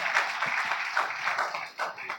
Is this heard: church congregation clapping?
yes